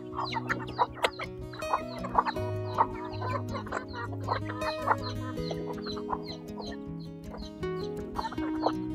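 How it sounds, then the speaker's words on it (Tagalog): Chickens cluck and chatter steadily, several birds close by, with overlapping short calls and occasional louder squawks. "May mga manok."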